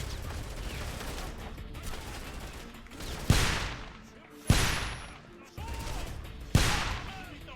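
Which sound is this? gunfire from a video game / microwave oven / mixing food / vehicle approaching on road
gunfire from a video game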